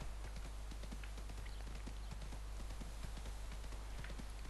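Horse hooves clip-clop at a quick, steady gallop while riding in the video game Ostwind on Switch. The rhythmic beats are faint and even, over a low steady hum.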